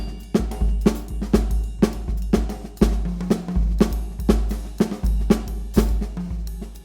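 A drum kit plays a hemiola, with sharp snare hits in a three-beat pattern over a steady two-beat bass drum pulse, repeating clearly and evenly without any voice.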